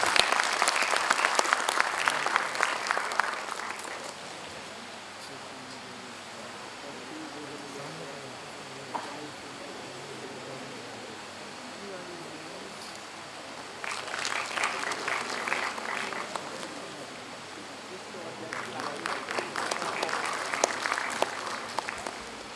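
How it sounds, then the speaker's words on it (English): Conference audience at an inauguration session breaking into applause, a broad wash of clapping that swells at the start, fades to room murmur, then returns in two further bursts. "A big round of applause, please."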